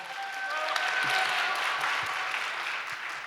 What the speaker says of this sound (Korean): 지구장님께 큰 박수 부탁드리겠습니다